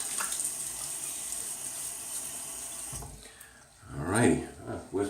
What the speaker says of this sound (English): Let me just put some water on the face.